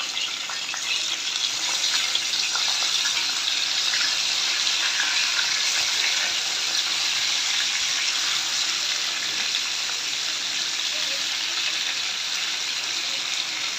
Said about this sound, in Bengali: মাখানো মাছগুলো বেজে নেব